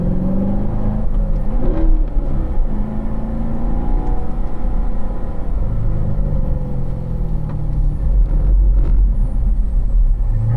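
On a track, a car is driven into a corner. Its engine rumbles steadily and rises and falls as it revs and eases off, heard from inside or nearby with no voices.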